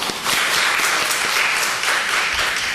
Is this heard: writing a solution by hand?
no